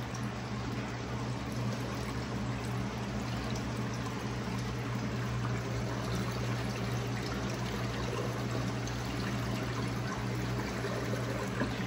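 Jebao SDW-16 wave pumps churn the water in a 75-gallon reef tank, giving a steady, continuous rushing and trickling wash with a faint low hum throughout and no speech.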